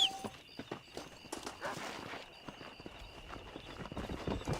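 Horse hooves clip-clop in Red Dead Redemption, a steady walking rhythm of close, moderately loud hoofbeats that carries through the whole stretch with no talk over it.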